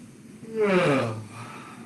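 A single drawn-out yawn during a Linklater voice warmup, rising and then falling over about a second, near and fairly loud, with no words spoken.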